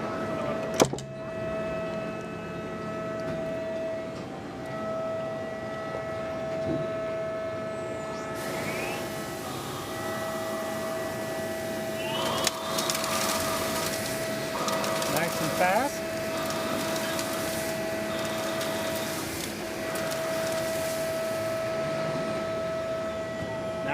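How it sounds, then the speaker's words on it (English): A CNC lathe machining a part from metal bar stock on a shop floor, with a steady high mechanical whine, tonal motor hum and shifting cutting tones, plus several brief sharper sweeps, heard close and continuous. "we're going to machine that first part right off of this bar stock"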